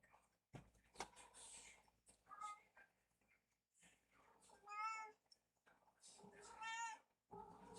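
A cat meows several times up close, in drawn-out, wavering calls separated by short quiet stretches, over faint background noise.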